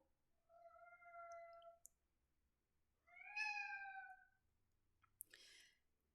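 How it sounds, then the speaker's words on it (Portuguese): A pet cat meows three times for attention, two drawn-out tonal calls followed by a shorter, rougher one, close and fairly clear against a quiet room. "Meu gato, ele não entende que a mãe está trabalhando. Aí ele fica aqui miando, pedindo atenção."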